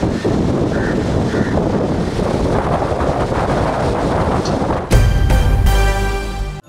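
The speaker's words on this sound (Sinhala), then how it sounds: "දැඩි සුළඟ හේතුවෙන් මුහුද රළුව පැවති ආකාරයයි මේ." Strong wind buffets the microphone over a rough sea, a steady loud roar of gusts and surf that shifts near the end into a heavier, more resonant rumble.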